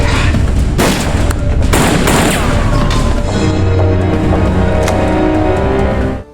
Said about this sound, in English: After a bout of gunfire, Christina, holding a gun, searches and find